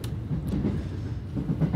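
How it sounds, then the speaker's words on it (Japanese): A train pulling out of Shin-Osaka station, heard from inside the carriage as a steady low rumble with faint rhythmic wheel clatter, continuous and moderately loud with no talk. "列車は今新大阪駅を出発したところです"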